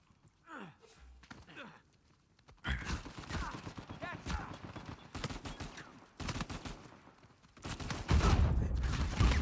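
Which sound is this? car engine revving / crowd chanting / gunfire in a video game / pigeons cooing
gunfire in a video game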